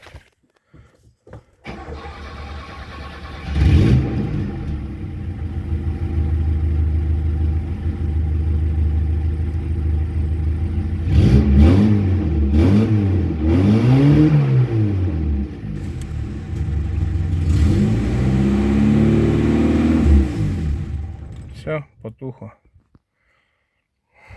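Starting an old VAZ-2106 car, a close engine cranks, catches and rumbles, then revs up and down several times in rising and falling swells before shutting off.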